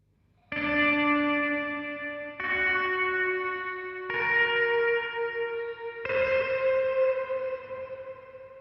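Four sustained guitar chords ring out one after another through a Fractal FX8 delay block at full diffusion, dense delay repeats blurring into a smooth, reverb-like tail.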